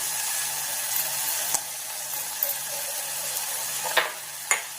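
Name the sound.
ginger garlic frying in oil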